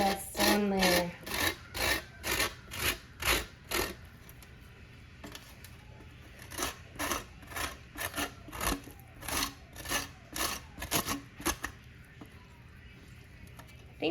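A small cheese grater scrapes lemon zest in bursts of quick rasping strokes, close and fairly crisp, with a pause in the middle before another run of strokes.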